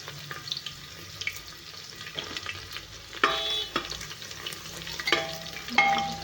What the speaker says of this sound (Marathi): अद्रक लसूण चांगलं भाजून घ्यायचं आहे आपल्याला